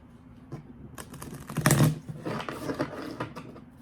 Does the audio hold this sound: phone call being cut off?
no